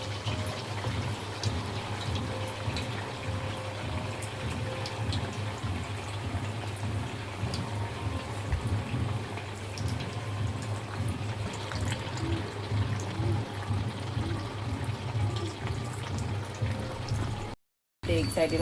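Sabudana vada frying in hot oil on a fast gas flame, a steady close sizzle and bubbling over a constant low hum. Someone speaks over the frying, and it cuts out briefly near the end.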